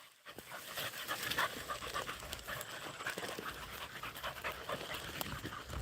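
Hunting hounds pant rapidly and steadily while tracking a rabbit in the field, the breathing close and continuous with faint rustling and an occasional whimper, no voices.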